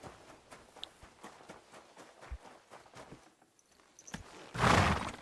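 A horse ridden in Kingdom Come Deliverance 2 clops along in soft, rhythmic hoofbeats close by, ending in a sudden loud whinny or snort.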